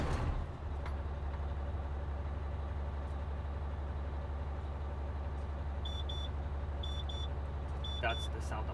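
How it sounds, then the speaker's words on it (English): An engine idles steadily while a truck's low air pressure warning buzzer sounds, a high electronic tone in short repeated pairs of beeps. "That's the sound of the buzzer."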